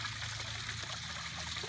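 Water from a backyard waterfall trickling into a fish pond, soft and steady with a faint low hum behind it, no talking.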